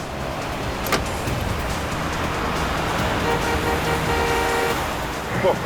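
Busy road traffic rumbles in a steady, dense wash of engines and tire noise, with a short horn toot near the start and faint honks further on, while a voice speaks over it.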